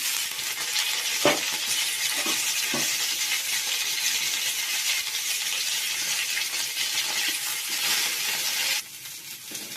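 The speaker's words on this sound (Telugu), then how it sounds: "ఇప్పుడైతే కరివేపాకు వేయించుకుందాం." Curry leaves frying in a pan for a ground drumstick-leaf spice powder, giving a steady, loud crackling sizzle throughout with a few sharp pops, fading slightly at the very end; no talking.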